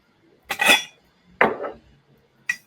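A teaspoon scoops heaping measures of dried peppermint tea leaves, giving three short scraping, clinking bursts close by, two fuller ones followed by a brief final tap.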